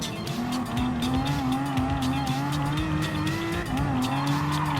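A Nürburgring 24-hour race car in Gran Turismo Sport, with an Aston Martin livery, holds a loud, steady engine note that rises and falls through the gears while its tires squeal throughout. No voices are heard.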